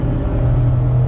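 Engine of a 2019 Mazda MX-5 Miata RF pulling hard under acceleration, a loud, steady low drone heard from inside the car over one short continuous stretch, with no speech.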